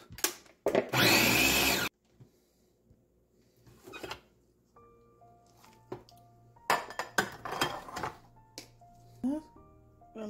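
Okra is crushed for a gluey okra soup sauce: a loud, close grinding burst lasting about a second, followed by scattered kitchen clatter and knocks as a voice speaks over them.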